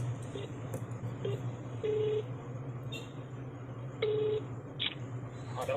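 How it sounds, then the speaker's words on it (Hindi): A telephone keypad is dialed, giving a series of short, evenly spaced DTMF tone beeps. The beeps come in irregular bursts over a steady low hum and faint background hiss. "हमने पहले जिनसे बात की थी उनको फोन लगा के कह देते हैं"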